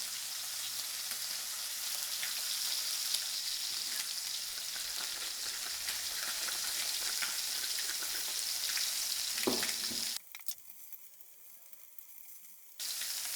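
Protein sears in a hot pan with a loud, steady broadband sizzle that holds for about ten seconds, drops briefly quieter, then returns.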